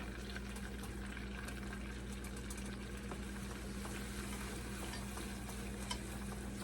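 Flour is whisked into melted butter in a pan to start a cheese sauce, giving a continuous soft stirring and sizzling hiss that stays steady throughout with no speech.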